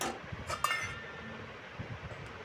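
A lid settles onto a cooking pot of fish curry with okra, giving a brief glassy clink and rattle followed by low bubbling quiet.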